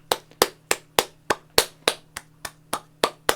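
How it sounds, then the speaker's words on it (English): Hands clap steadily outdoors in the evening applause for the NHS, about a dozen sharp, evenly spaced claps close by over a low steady hum, with no talking. "So clap for the NHS, folks, clap for the NHS."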